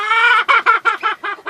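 Hens cluck in a farmyard, a loud, close run of about seven short rhythmic clucks in quick succession with no talking over them.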